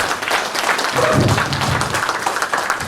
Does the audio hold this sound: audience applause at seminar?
yes